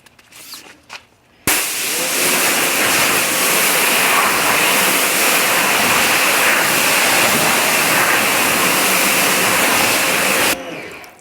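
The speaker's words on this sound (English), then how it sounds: "let's just mist it, and really, really light mist." A sprayer mists water onto a waxed car panel in one long, continuous hiss lasting about nine seconds, close and loud, starting and stopping abruptly.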